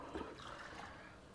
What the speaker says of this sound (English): top this up with another 3 cups of water